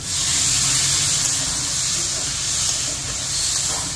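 Water poured into a hot pan of spiced potato and pointed gourd curry makes a steady, bright hiss and sizzle that stays loud and close throughout, with no talking.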